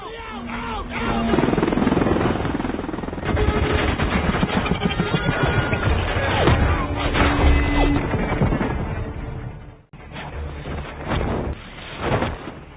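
In the Transformers: Dark of the Moon battle, Decepticon aircraft bombard troops landing in Chicago, with loud roaring engines, rumbling blasts and crashing impacts layered together, and a brief drop-out before the din resumes. A voice talks over it.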